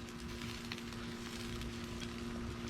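Light rain sprinkles onto a metal pan beside an outdoor campfire, producing soft scattered ticks over a constant crackling, hissing fire bed and a steady low hum, moderately quiet and without voices.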